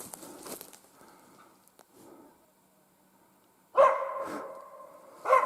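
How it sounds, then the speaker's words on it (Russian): A dog barks somewhere out in a forest near a hut, a few bursts loud enough to carry, with quieter rustling and sounds in between. "Кого там лает?"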